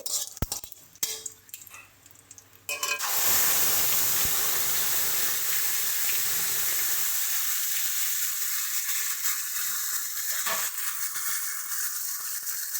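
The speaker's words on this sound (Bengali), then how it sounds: "এবার এর মধ্যে তেজপাতা আর জিরে ফোড়ন দিচ্ছি।" Bay leaf and cumin seeds hit hot oil as a tempering for a cauliflower curry, bursting into a loud, dense sizzle after a few quiet clatters, then hissing steadily close by.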